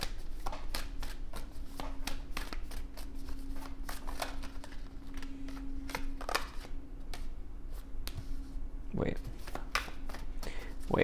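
Oracle cards are shuffled and drawn by hand, a run of soft riffling flicks and snaps close up with a steady low hum beneath and a few brief voice murmurs.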